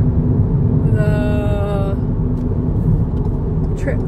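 A car driving through traffic on the way into Calgary, with a steady loud engine and road rumble throughout and a brief whining tone partway through; a voice speaks over the driving.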